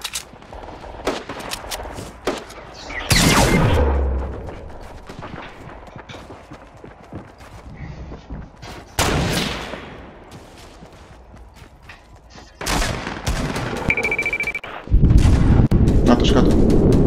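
Fortnite gunfire in a 50 vs 50 match, loud bursts of shots and blasts rising in several clusters over steady game noise, with a closing stretch of dense, heavy firing.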